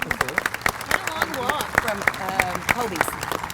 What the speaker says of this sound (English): let's have a big round of applause for our ambassador, Justin Merritt.